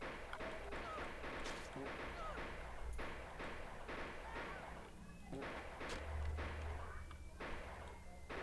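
Gunfire in a western video game on Android: repeated sharp shots and thuds in an irregular rhythm, loud and busy, with a player speaking over the action.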